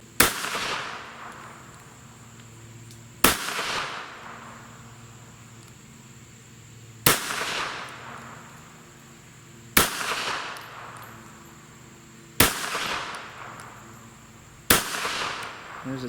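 A Jennings Bryco pistol is fired at an outdoor target, six sharp, loud shots spaced a few seconds apart, each cracking out and trailing off into quiet ambience with faint insect noise.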